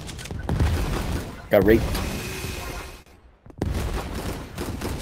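Rapid minigun fire rattles in a yard video game match, a dense burst of shots under excited talk, cutting off briefly before the chatter resumes.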